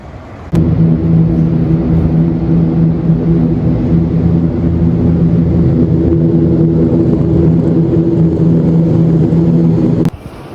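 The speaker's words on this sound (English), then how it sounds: "Big truck coming." A big truck rumbles across the single-lane Stikine Bridge, a loud, steady low engine drone with a tonal hum that holds for about ten seconds close by, starting and ending abruptly.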